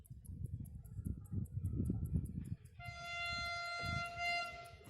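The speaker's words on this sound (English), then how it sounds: "The train is coming." A train passes with a faint rumbling roll of wheels, then a sustained horn sounds partway through, held for a couple of seconds, distant and quiet.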